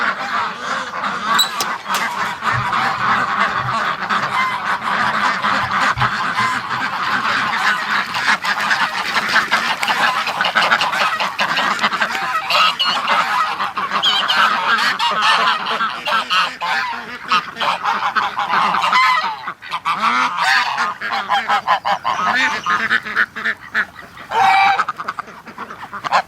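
Geese and ducks from a hatch crowd out of their pen as it opens, and the geese honk loudly and continuously. Quacks mix in with the overlapping, nearby calls, which keep up throughout.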